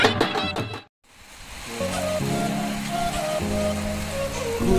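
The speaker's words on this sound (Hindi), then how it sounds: "बारिश में फंस चुके हैं अपन, बारिश में पूरा फंस चुके हैं" Rain falls steadily after a brief cut, a continuous broad hiss of drops on surfaces at moderate loudness, with faint background music or tones beneath.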